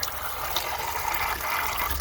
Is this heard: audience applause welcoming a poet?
no